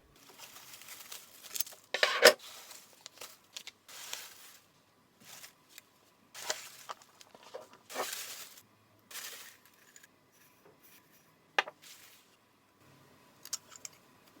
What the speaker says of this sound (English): A medieval cutlery set.